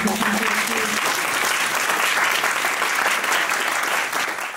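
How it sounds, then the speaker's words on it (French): Dense audience applause fills the whole stretch, loud and steady, with a few crowd voices faintly audible in the first moments. "je pense qu'on va encore l'applaudir"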